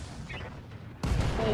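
Heavy weapon fire from battling mechs in the RogueTech game: a steady rumbling barrage, then a sudden loud blast that holds as a dense roar, with a faint voice underneath.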